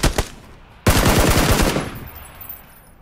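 Loud automatic gunfire in PUBG, a rapid burst of close shots with crisp cracks and a brief echoing tail, following two sharper single reports.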